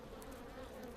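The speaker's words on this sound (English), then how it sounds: "These too are honeybees. They made their hive in a hollow tree." Native Japanese honeybees buzz at their hive in a hollow tree, a dense, continuous droning hum from many insects close by.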